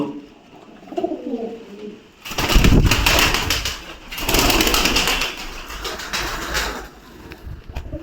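White pigeons and their chicks coo close by in low, throaty bursts, mixed with some rustling and fluttering, the calls rising and falling over several seconds.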